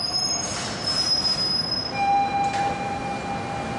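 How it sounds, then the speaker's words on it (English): An M subway train runs on rails in Queens, loud wheel squeal ringing over a continuous rumble of the cars, close and alone with no talk. "Patricia Massari catches the M train to downtown Manhattan."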